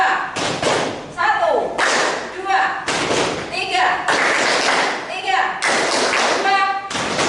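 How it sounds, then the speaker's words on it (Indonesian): A school class plays a rhythmic hand-clapping ice-breaking game in the morning, bursts of claps and thumps in patterned groups mixed with children's voices chanting along. "Ice breaking di pagi hari ini kita mau bertepuk."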